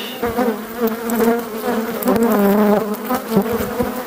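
Honeybees at an open hive buzz loudly and close by, a dense, wavering drone of many wings rising and falling as the colony grows agitated, with no voices over it.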